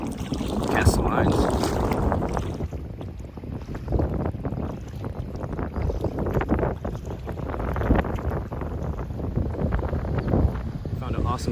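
Gusting wind buffets the microphone while choppy water slaps and splashes around a kayak on open water on the Au Sable River in Michigan, a loud, continuous rush.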